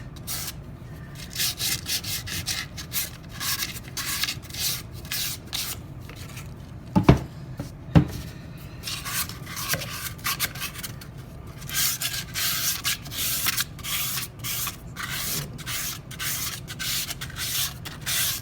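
Sandpaper worked by hand over a wooden toolbox being distressed, bursts of dry rubbing strokes coming and going, with a couple of sharp knocks midway and quiet stretches between.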